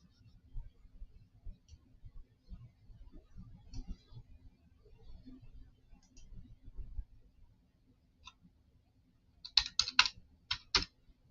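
Computer keyboard typing: faint, scattered key taps for several seconds, then a loud burst of quick clicking near the end, heard up close in a quiet room.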